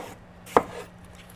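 A knife chopping watermelon with a single crisp, close cut on a cutting board, a short sharp thunk in an otherwise quiet kitchen.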